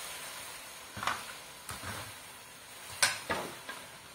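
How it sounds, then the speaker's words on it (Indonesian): Sawi greens and cauliflower stir-frying in a pan give a steady soft hiss, broken by several sharper scraping stir strokes at irregular moments. "tinggal diaduk-aduk lagi"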